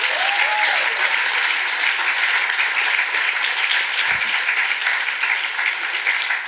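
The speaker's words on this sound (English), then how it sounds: "Round of applause for Valerie," Audience applause at a literary evening, a steady sustained wash of clapping from a crowd that holds at an even level throughout.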